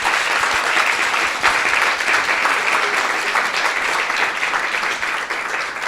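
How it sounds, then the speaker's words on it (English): An audience claps steadily for several seconds, a thick, even wash of applause with a faint crowd murmur beneath. "So give him a round of applause for that"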